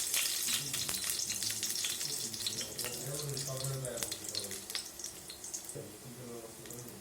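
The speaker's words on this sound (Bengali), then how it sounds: "আমরা এখন গরম তেলের মধ্যে রসুন কুচি দিয়ে দিচ্ছি।" Chopped garlic sizzling in hot oil in a pan for noodles, a steady bright frying hiss with a few louder spits and soft clatter in the background.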